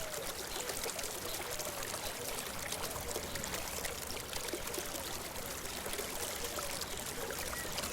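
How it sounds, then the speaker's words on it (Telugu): Water pours steadily into a homemade swimming pool built from PVC pipes, a continuous rushing splash that fills the whole stretch at even loudness with no voices. "వాటర్ ఫిల్ అవుతూ ఉంటుంది"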